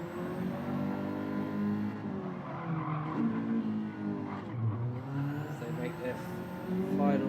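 Race cars in a retro sim racing league event roar around the track in the closing laps, with engines droning and shifting pitch continuously while a commentator talks over them.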